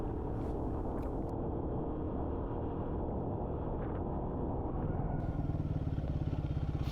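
A Royal Enfield Guerrilla 450 motorcycle ridden along a carriageway, its engine droning steadily under wind rush at the microphone, the exhaust note turning more pulsing and throaty near the end.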